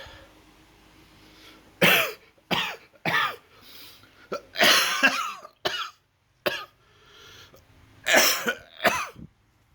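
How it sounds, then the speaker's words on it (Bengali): A person with a week-long cold, mild fever and worsening cough coughs in a series of harsh, close bursts, some single and some in rapid clusters, separated by short silent pauses. "কাশি বেড়েই চলেছে"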